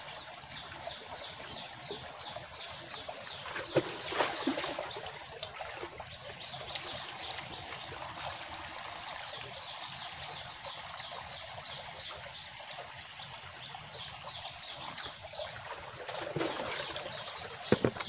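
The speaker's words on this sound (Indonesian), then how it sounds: "Terus kita penuhkan, masuk dalam tangki." Liquid pours and trickles into a sprayer tank used on chili plants, a faint continuous stream heard outdoors with birds chirping repeatedly in the background.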